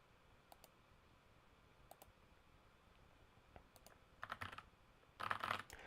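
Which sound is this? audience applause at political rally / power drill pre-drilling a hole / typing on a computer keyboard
typing on a computer keyboard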